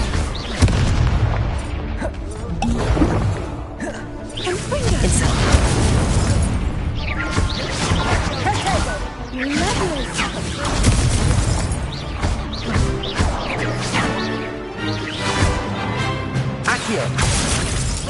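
Fire spell blasts in a wizard video game, booming bursts and crackling impacts layered over continuous loud game action and music, with voices speaking throughout.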